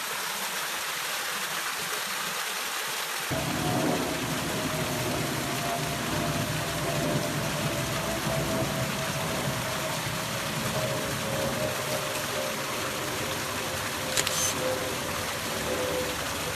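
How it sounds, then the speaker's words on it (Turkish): Stream water rushes steadily through Firavun Valley in Şile, a constant broadband flow that begins after a brief quieter moment and continues evenly throughout, close and loud with no voices. "Burada oturacaksın işte böyle su sesini dinleyeceksin."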